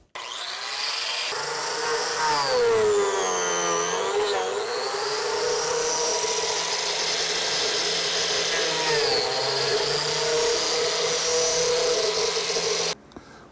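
A biscuit joiner whines steadily at full speed while cutting slots into a wooden miter joint for a waterfall corner, with a high pitched motor tone that dips briefly as the blade bites, then cuts off abruptly.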